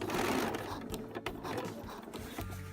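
A sewing machine stitches a seam on a spring coat with a rapid, steady mechanical whirring chatter up close, pausing briefly in places before running on.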